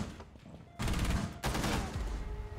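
Gunfire in the tactical shooter Rainbow Six Siege, two loud close bursts of rapid shots following a quieter opening, the second burst trailing off.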